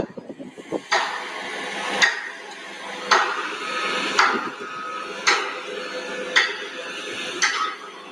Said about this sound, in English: What they're probably doing is hammering all these bolts that go in.